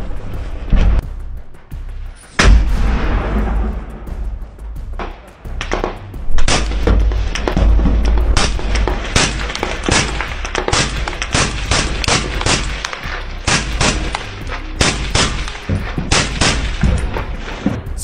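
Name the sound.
sniper rifle shots fired by Ukrainian soldier in Bakhmut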